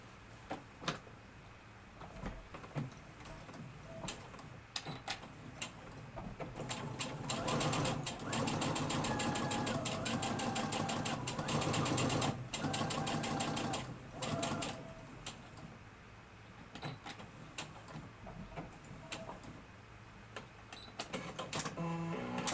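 A sewing machine stitches quilt nine-patch blocks together in quick rattling bursts, which build to a sustained run of stitching in the middle and then taper off into short stop-start runs, all at moderate volume.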